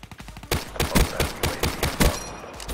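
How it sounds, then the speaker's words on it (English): Rapid bursts of video-game gunfire, loud and close, cracking in a quick uneven string of about eight shots with short gaps between them. "Feels like shooting all its bullets in like two shots."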